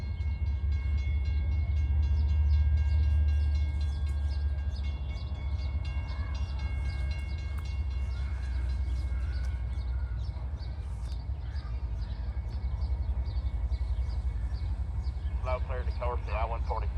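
CSX freight train I-142 rumbling past a grade crossing with lowered gates, a steady heavy low roar of cars throughout, a few faint high tones near the end, with a voice talking over it.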